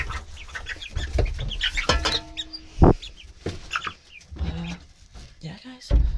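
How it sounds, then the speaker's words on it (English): Chickens settled on their perches in a backyard coop at night make soft, scattered clucks and murmurs, close and fairly quiet, mixed with rustling and a person talking. "I just kind of want to show you a view of the coop of what the chickens do at night"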